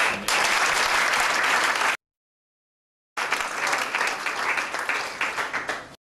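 A church congregation applauding to acclaim the Lord: two bursts of steady, dense clapping separated by a short silence, the second fading away at the end.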